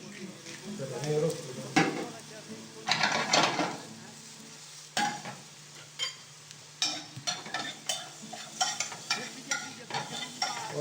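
Small sausage pieces fry with onion in a pan, sizzling steadily while a utensil stirs and scrapes with irregular clatters close by, loud at first and then in quicker short knocks.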